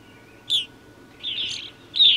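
A blue jay and a male grosbeak call at a bird feeder made from a plastic peanut butter jar: three short, bright chirps spaced apart, close and clear, with no talk.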